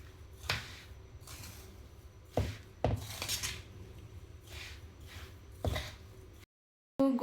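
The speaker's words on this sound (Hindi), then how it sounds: "अब इसके अंदर मैं देसी खांड डाल रही हूँ, अच्छे से मिक्स करके अब इसके लड्डू बना लेंगे हम।" Desi khand being stirred into gond laddu mixture in a pan, with a spoon giving intermittent scrapes and several sharp metallic clinks against the pan, close up and with no talking.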